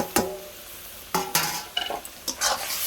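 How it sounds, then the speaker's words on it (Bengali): Prawns sautéed in spice paste, with sharp stirring knocks and scrapes of a spoon against the pan in short irregular bursts over a faint sizzle. "যে মশলাটা আমার হয়ে গেছে ওর সঙ্গে আমি কিছুক্ষণ চিংড়ি মাছটা কষিয়ে নেব"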